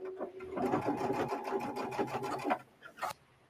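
A sewing machine stitching an insulated casserole cover, a quick run of rapid mechanical stitching for about two seconds, then a couple of short clicks and bursts, close and fairly quiet.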